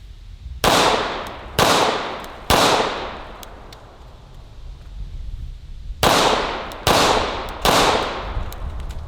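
A 1911 pistol fires six loud, sharp shots with ringing tails, three spaced about a second apart, then a pause of several seconds before three more in quick succession.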